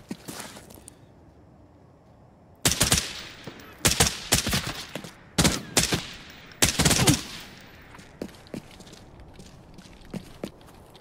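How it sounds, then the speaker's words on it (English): NPC gunfire in the video game Arena Breakout Infinite: bursts of rapid gunshots crack out in several clustered volleys, followed by scattered single distant shots and faint footsteps. "NPCs are firing at them."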